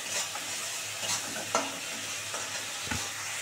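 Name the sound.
sautéing spice masala with sugar in a pan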